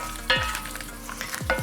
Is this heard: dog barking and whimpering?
no